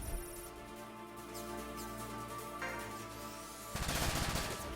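Rapid gunfire from mechs in the video game Front Mission 5: Scars of the War, dense bursts over a droning game soundtrack, intensifying into heavier fire near the end.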